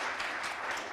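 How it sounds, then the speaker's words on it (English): A short burst of audience applause at an education event on digital skills, steady dense clapping from a crowd heard for under a second. "big round of applause"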